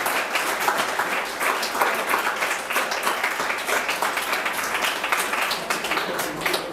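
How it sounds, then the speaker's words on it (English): Steady audience applause at a school event at Takoradi International School in Ghana, dense clapping from many hands filling the whole stretch, fairly loud and without talk. "Let's put our hands together for them as they sit and prepare for."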